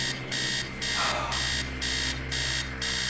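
An alarm clock in the game Stories Untold blares in repeated pulsing bursts, loud and shrill, several evenly spaced beeps over a steady low hum.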